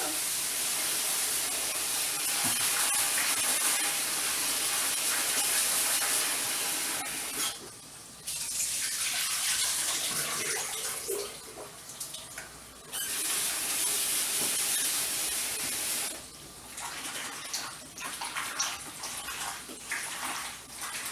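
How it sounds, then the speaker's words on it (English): Steady hissing stream of running water as potatoes are rinsed in a kitchen sink, continuous and fairly loud, with brief dips where the flow is interrupted, and no talk. "Now I always rinse my potatoes off because they have a lot of starch in them."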